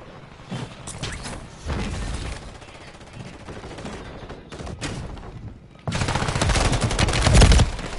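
Video game gunfire in Rebirth: short, scattered bursts of shots at first, then heavy, sustained, louder firing for the last couple of seconds.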